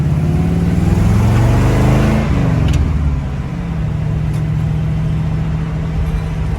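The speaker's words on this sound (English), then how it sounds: "the engine runs just great" A 1967 C50 truck with a swapped-in 5.3 LS V8 drives along, the engine loud and close, droning steadily and rising briefly in pitch before settling into an even cruising hum.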